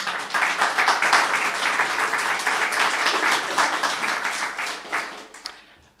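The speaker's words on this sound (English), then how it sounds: "Can I have a round of applause, please?" Sustained applause from a crowd at a UNISON Cymru public services rally, loud and dense for about five seconds before tapering off at the end.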